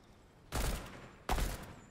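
Two heavy bursts of gunfire from the video game Fortnite, each a dense rumbling volley under a second long, spaced about three quarters of a second apart over low background noise.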